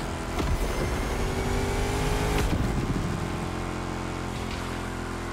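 The Chrysler SRT8 roars in The Crew Motorfest, a loud continuous engine drone with rising revs and a sharp shift partway through, up close and steady throughout.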